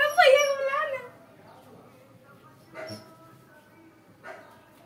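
A dog gives a close, sharp bark with a whining tail, then two shorter, quieter yips spaced apart in an otherwise quiet setting.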